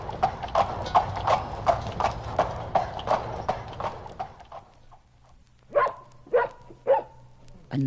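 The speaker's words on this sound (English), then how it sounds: "Horses' hooves." Horses' hooves clip-clop on a street in a brisk, even rhythm, fading after a few seconds, followed by several sharp dog barks.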